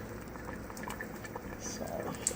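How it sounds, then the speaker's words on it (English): A pot of water boils hard with dumplings for chicken and dumplings, giving a quiet, continuous bubbling and popping with a few louder pops near the end. "You have to keep that water boiling, like I say, because if you don't, these dumplings are going to stick to each other."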